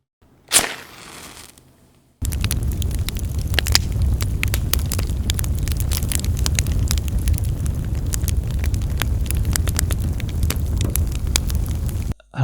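A fire burns inside a metal bin: a brief burst of noise at the start, then a steady, loud roaring crackle with frequent sharp snaps and pops that continues for about ten seconds before cutting off.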